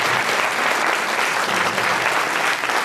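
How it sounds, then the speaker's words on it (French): Dense, continuous audience applause at an intergenerational project gathering with nursing-home staff, loud and steady without pause. "tonnerre d'applaudissements"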